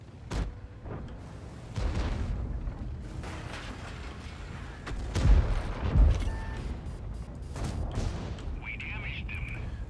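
Tank cannon shots in World of Tanks, a WZ-111 Qilin in battle, with heavy booms standing out over a low rumbling backdrop and speech.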